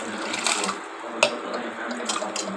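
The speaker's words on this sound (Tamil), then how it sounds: "மீன் குழம்பு வைக்கிறதுக்கு தண்ணி ஊற்றலாம்." Water is poured into a clay pot for fish curry, a close, uneven splashing pour with a brief sharp clink partway through and no speech.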